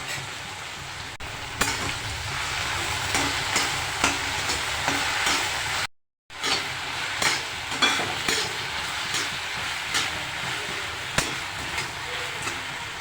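Mustard seeds and chopped okra frying in hot oil for okra thoran: a steady, close sizzle with scattered crackles and stirring clatter, briefly cut off once and then resuming.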